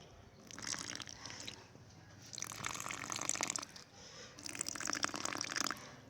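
Water is poured from a glass onto bottle gourd seeds in a container, coming as splashing, trickling bursts with short pauses between them, close and fairly quiet.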